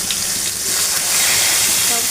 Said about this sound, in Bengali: সরিষার তেল দিয়ে ভেজে নিব।